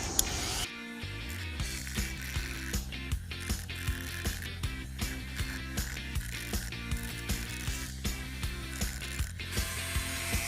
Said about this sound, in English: Use the slowest speed that I have on this rotary tool.